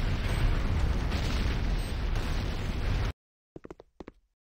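A C4 charge detonates in the Command & Conquer Renegade game, a loud, sustained roaring blast lasting about three seconds that cuts off abruptly, followed by a few short, quieter clicks and pops.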